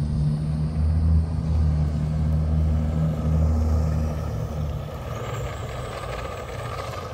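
A 2018 Schumacher Top Cat classic RC buggy with slippery tyres runs over bumpy ground, producing a continuous low rumbling drive noise that swells and eases and then softens toward the end.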